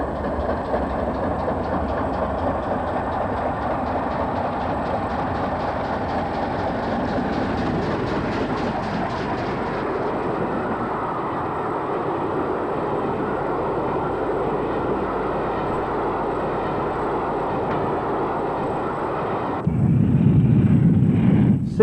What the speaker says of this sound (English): 60126 on a Down Express.